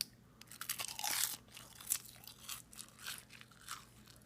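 Close, crisp crunching of a Korean seaweed snack being bitten and chewed, irregular crackly bursts over several seconds with no talking.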